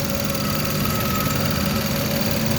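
A GM vehicle's engine idles steadily while warming up, a continuous close, even rumble with a faint knocking texture and no talk over it.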